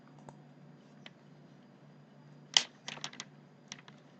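Text being typed on a computer keyboard while working in Excel: scattered single key taps, then a quick burst of clicks and a few more presses, close and fairly quiet over a low hum.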